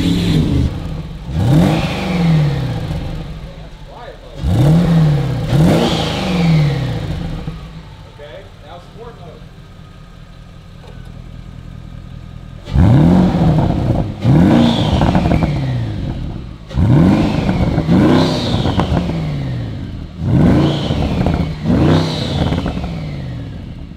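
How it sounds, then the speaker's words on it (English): Porsche Cayenne Turbo S with factory sport exhaust and no intercooler, revving loudly in repeated bursts with throttle blips and crackling pops between them, interrupted by a quieter stretch of lower engine drone. "The factory pops and crackles with that sport exhaust."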